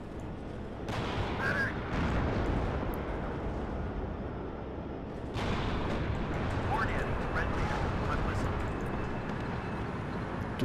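Artillery fire in the video game WARNO, with dense broadband rumbling booms and crackling blasts running continuously, a sharper burst near the middle, while a voice talks over the barrage.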